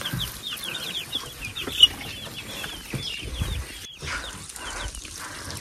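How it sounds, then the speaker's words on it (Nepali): Hens and chicks in a village chicken coop, near rapid high chick peeps and soft clucking, with a brief sharp knock and some rustling in the background. "कुखुराको बच्चाहरू पनि छन्।"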